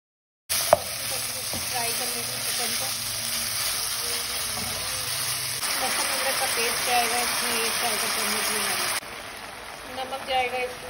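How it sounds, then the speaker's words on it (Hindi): Vegetables for chicken pasta fry in a hot pan with a loud, steady, hissing sizzle like rain that starts abruptly and continues unbroken, shifting slightly near the end. "सबसे पहले मैं वेजिटेबल्स को फ्राई कर लूंगी।"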